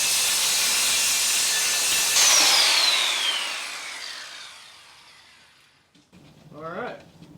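A power saw cuts through wood while building a launch ramp, a loud continuous whine that drops in pitch as the blade slows and stops, followed by a brief burst of nearby talk.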